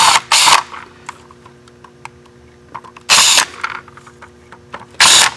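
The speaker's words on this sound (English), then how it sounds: "Let's get these screws out of here and see what we're dealing with." Screws being driven out of a rusty LED brake light fixture on a table with a power driver, three loud whirring bursts separated by quieter clicks and handling noises, close up.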